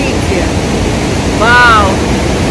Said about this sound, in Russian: Столько звука от силы воды здесь.